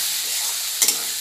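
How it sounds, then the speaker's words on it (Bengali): Spice masala with salt and cumin powder frying in a pan, a steady hissing sizzle with one quick double clink of a utensil near the end. "এবার মশলাটা ভালো করে কষিয়ে নিয়ে"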